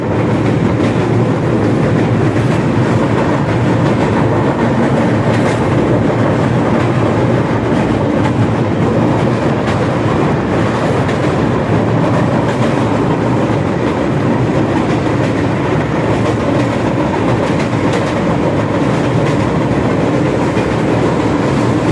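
Himgiri Express 12331 train running on rails on the approach to Arrah Junction, a steady, loud rolling rumble with continuous wheel clatter heard close and alone throughout.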